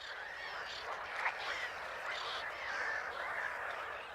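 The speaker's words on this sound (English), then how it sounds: "The toad's mating cries have given them away." Toads give mating calls in a dense, steady chorus of overlapping trills near wetland in Poland, moderately loud and continuous without any talking.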